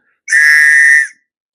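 A small whistle from a mini hiking kit gives one sharp, shrill, steady blast lasting just under a second, loud and close, cutting off cleanly into silence.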